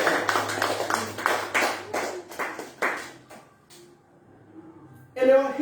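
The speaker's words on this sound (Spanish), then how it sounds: "Denle fuerte aplauso al Señor." Church congregation clapping in a burst of applause, rapid dense claps that fade out, then a voice resumes near the end.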